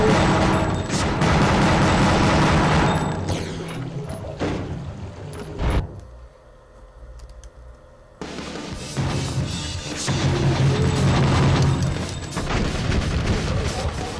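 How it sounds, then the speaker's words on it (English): A demolition shot special attack in the PS2 game Gungrave bursts out as loud booming blasts and rapid gunfire, drops to a quieter lull midway, then returns to heavy crashing explosions. "It's actually not the demolition shot I would have preferred to have used there, but it got the job done."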